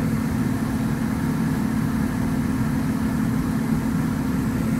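A Broad Ocean ECM blower motor runs on medium speed, a steady, even hum with a constant low drone, unchanging and alone for the whole stretch.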